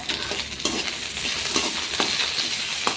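Ginger and green chillies sautéing in hot oil for mint rice, a steady close sizzle broken by a few sharp scrapes and clinks of a stirring spoon against the pan, no voices.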